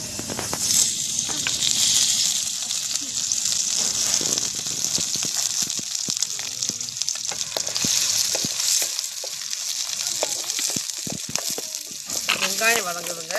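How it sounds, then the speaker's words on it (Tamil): Onions sauté in a pan, giving a steady, close sizzle and frying crackle with occasional stirring clatter, with brief speech near the end. "வெங்காயம் வதங்குதுங்க. வெங்காயம் வதக்கலாம்."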